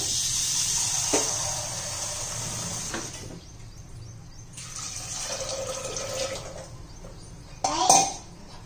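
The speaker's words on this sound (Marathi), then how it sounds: "त्यात थोडं पाणी घालू" Water pours into a pressure cooker holding washed kabuli chickpeas soaked overnight, a steady close splashing rush with a few metal clanks and a sharper clatter near the end.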